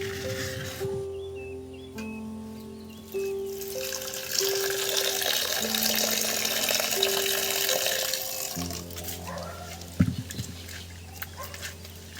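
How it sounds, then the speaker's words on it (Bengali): Sliced potatoes being washed and squeezed by hand in a bowl of water, close splashing and sloshing with wet rubbing, while faint tonal music plays in the background. "কচলে কচলে পুরু একদম ধুয়ে নিচ্ছি বন্ধুরা।"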